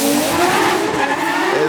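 Tires of a drift car skid and squeal on the track during a drift series round at a stadium, one loud sustained screech mixed with engine roar.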